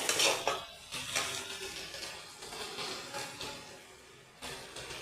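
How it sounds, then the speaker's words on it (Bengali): Potatoes are stirred and fried with masala in a pan for a cauliflower-potato dum: soft, intermittent scraping and clinking of a spatula against the pan over a faint sizzle, with no voices. "মশলাটার কষানোর সাথে সাথে আমি আলুগুলোও দিয়ে দিচ্ছি"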